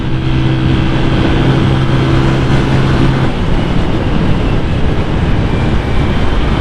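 A Honda Vario 180cc motorcycle on its stock exhaust is ridden at speed, its engine drone blending with heavy wind roar in a loud, steady, continuous rush close to the rider.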